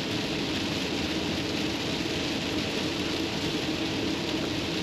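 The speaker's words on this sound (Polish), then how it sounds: "ulewa jest konkretna." Heavy rain downpour drums on a Maxus e-Deliver 7 electric delivery van while driving, a dense, loud, steady wash of hiss and rumble with no voices.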